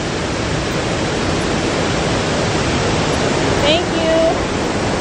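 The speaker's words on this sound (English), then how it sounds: "Post this Roswell Mill waterfall." Roswell Mill waterfall, a steady, dense rush of falling water filling the whole scene, with a brief whistle-like sound partway through.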